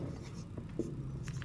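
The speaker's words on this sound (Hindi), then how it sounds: "अगला क्वेश्चन लिख दूं मैं" Marker or chalk scratching on a classroom board during a profit-and-loss lesson, short quick strokes close by over about a second and a half, mixed with soft speech.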